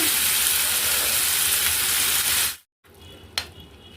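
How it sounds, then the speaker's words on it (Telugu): Green tomato chutney sizzles loudly in hot oil with a spice tempering, a steady frying hiss for over two seconds that cuts out abruptly, followed by quieter crackle and one brief clink. "పచ్చి టమాటాలు పచ్చడి ఒక రెండు నిమిషాల దాకా ఈ నూనెలోనే ఈ తాలింపులోనే మగ్గించుకోవాలి"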